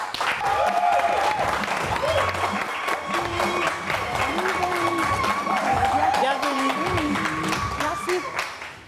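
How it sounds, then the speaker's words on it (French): A studio audience on a midday television show applauds to welcome guest Léry Sankofa, with sustained clapping and crowd noise, a few cheers and music running underneath. "applaudissements pour Léry Sankofa"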